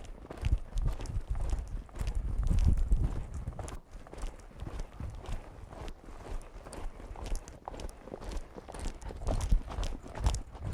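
A horse ridden through a figure 8 and a flying change in a Western Dressage session produces a steady, close run of hoofbeats, with softer clopping and footfalls continuing throughout and no clear talking.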